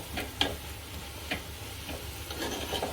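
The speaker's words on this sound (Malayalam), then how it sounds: "ഞാൻ സവോള ഇളക്കിക്കൊണ്ടിരിക്കാം കേട്ടോ." Onions frying in a pan at night in a home kitchen are stirred, giving a low, steady sizzle with a few soft scraping clicks from the spoon, fairly quiet with no talk.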